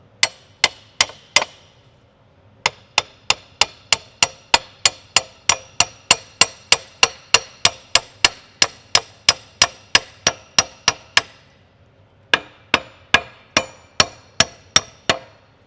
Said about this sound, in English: Okay, I brought my hammers.